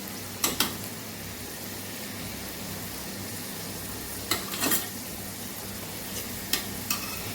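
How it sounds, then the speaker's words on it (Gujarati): Garlic cloves and asafoetida sauté in ghee for a Kathiyawadi chana dal shaak, making a soft, even sizzling hiss with a few brief clinks of a spoon against the pan, fairly quiet and without speech. "લસણની કળીઓનો કલર બદલાય ત્યાં સુધી આપણે એને સાતડવાની છે ઘીની અંદર"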